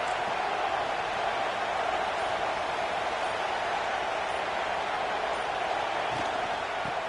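Stadium crowd noise in a college football video game, a steady, loud wash of massed voices roaring continuously with no breaks, the home crowd pressing while the opponent is pinned deep in its own end.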